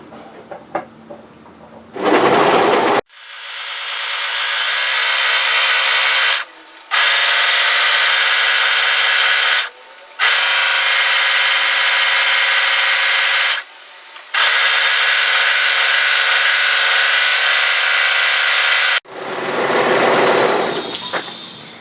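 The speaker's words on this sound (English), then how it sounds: "I'm going to run a line of overlocking on the hem so I can complete the hem" An overlocker serges a line along the hem of a sweatshirt hoodie dress, its loud, steady high-speed whir running in long bursts with brief pauses between them, close and alone.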